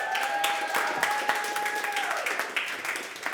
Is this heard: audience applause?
yes